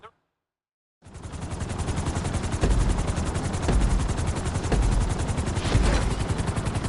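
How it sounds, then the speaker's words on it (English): Helicopter in the video game GTA 5, a loud, steady rotor chop that starts abruptly after a second of silence, with a few heavier bursts rising over it. "we're gonna put you in a helicopter for this lesson"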